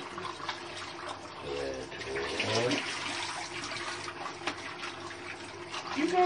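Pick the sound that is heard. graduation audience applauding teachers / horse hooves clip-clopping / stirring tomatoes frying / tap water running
tap water running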